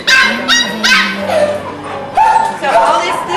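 A puppy at an animal shelter in San Bernardino, one of a litter, yips and whimpers in short bursts close by, with people talking over much of it.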